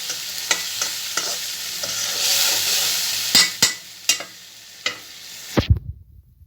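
Onion and shrimp, both small ground shrimp and large prawns, frying in garlic-infused oil, a steady bright sizzle broken by several sharp stirring clacks of a utensil against the pan before the sound cuts off.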